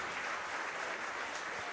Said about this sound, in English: gets some claps here from the hometown crowd in London as he makes his way to first